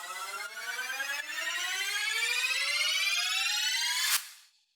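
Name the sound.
layered EDM riser sound effects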